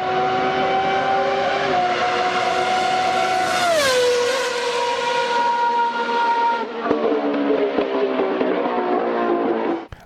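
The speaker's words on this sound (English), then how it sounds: "Right here, you're going to hear a sound for an F1 car." A Formula 1 car engine screams at high pitch, its tone sweeping up and dropping as it shifts and passes, loud and sustained before cutting off sharply at the end.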